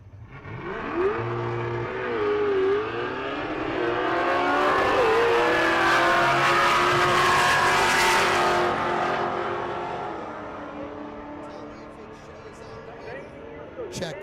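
A race car with a Ford Coyote engine and six-speed gearbox revs and roars, swelling to a loud pass in the middle before fading, with a brief voice near the start.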